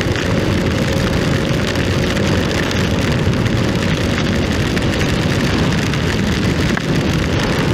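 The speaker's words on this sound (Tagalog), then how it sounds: "Malakas na po ang ulan talaga." Heavy rain pours continuously, loud and close, with big drops pattering in a dense, unbroken roar.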